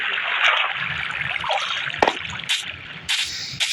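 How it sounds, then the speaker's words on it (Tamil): Continuous trickling, splashy water flow in a crafting video game, steady and close with a few sharp clicks and small bursts over it. "இது தண்ணி வரும்."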